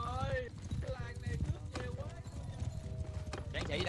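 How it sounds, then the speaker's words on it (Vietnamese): Horse hooves clip-clop in Mount & Blade II: Bannerlord, a steady rhythmic clopping mixed with game music and sounds throughout, while someone talks over it. "Con ngựa nè."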